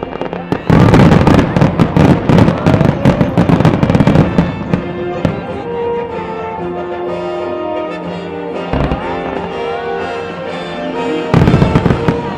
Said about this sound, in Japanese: それでは23分30秒にわたる花火交響詩空の開幕です。